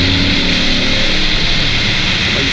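A 2017 Chevrolet Camaro SS V8 engine running loud and close, a deep steady rumble with a continuous broadband roar and no talking.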